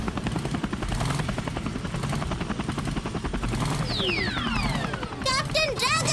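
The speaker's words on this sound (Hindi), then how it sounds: "हेलीकॉप्टर दोस्त, मुझे उसके सामने ले चलो" A cartoon helicopter flies with a steady, rapid rotor chop throughout, loud and close, joined near the end by swooping whistling effects.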